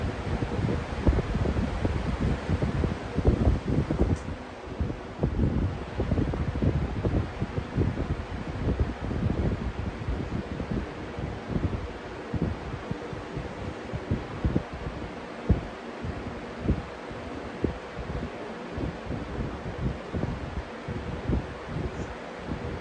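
Lasko box fan spinning down, a steady close whooshing air rush with soft rhythmic thumps from the slowing blades, gradually easing over about twenty seconds.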